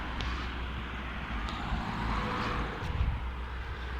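Car traffic passes along a street, a steady low rumble of engines and tyres that swells slightly near the end, with no voices.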